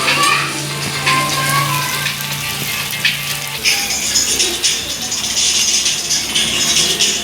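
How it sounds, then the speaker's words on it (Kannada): Fish frying in a pan at a family dinner gives a steady, bright sizzle and crackle that stays loud throughout, with a low hum early on and occasional faint background voices. "ಆಹಾ, ಮೀನು ಫ್ರೈ ಹಾಕಿದ್ರು."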